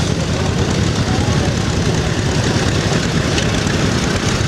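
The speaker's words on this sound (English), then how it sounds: "We've got the nice old truck going through again." A heavy engine rumbles steadily and loudly throughout, a low continuous drone like an old truck rolling by close at hand.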